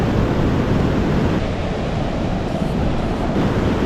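Surf rolls onto a rocky beach at Apsarakonda, a dense continuous roar of breaking waves with heavy wind rumble, loud and close.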